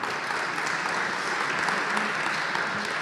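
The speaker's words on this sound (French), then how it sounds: "cher public, pour applaudir nos speakers" A business start-up day audience applauds the speakers with steady, dense clapping that carries evenly throughout.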